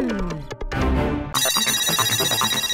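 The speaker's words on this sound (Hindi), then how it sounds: "मेरा फोन बज रहा है" A bright electronic mobile phone ringtone plays loud and close, a short melodic phrase followed by a repeating trilling ring pattern.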